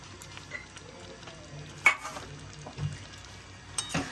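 Paneer pieces go into a curry in a kadai-style pan one by one, giving off a soft, steady sizzle broken by a few clinks and stirring scrapes, with no talking.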